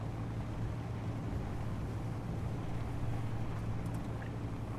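A hydrogen-engine vehicle in Space Engineers drives on with a steady low drone and hum, constant and unchanging, with no voices over it.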